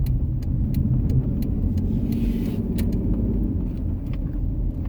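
A used 2010 Jeep Liberty 4x4 SUV on the road, with steady low engine and road rumble heard from inside the cabin, continuous and even throughout.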